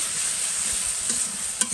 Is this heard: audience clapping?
no